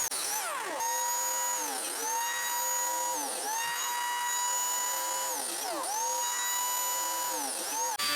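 A Lamello biscuit joiner cuts slots into the faces of a wooden crosspiece for a coffee table, giving a loud high-pitched motor whine that dips and recovers in repeated plunges, close and without talk.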